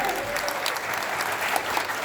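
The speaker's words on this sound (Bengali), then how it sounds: "চেয়ারম্যান স্যারের জন্য, শায়ান রিসোর্টের চেয়ারম্যান স্যারের জন্য একটা জোরে হাততালি হয়ে যায়" A crowd claps steadily and loudly at a TV raffle draw event, sustained applause filling the whole short stretch.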